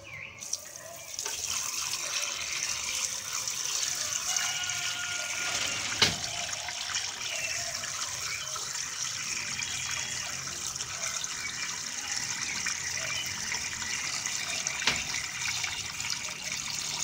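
Water flushes steadily through a car radiator from a Gol or Pointer, a continuous rushing flow with a couple of small knocks, moderately close and heard without talk.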